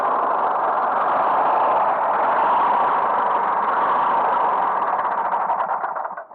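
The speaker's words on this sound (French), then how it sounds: "Il a juste un très beau son ce moteur." A two-cylinder Briggs & Stratton engine on a Roper 16 T riding mower runs steadily up close, a constant droning rumble that holds level before fading out at the end.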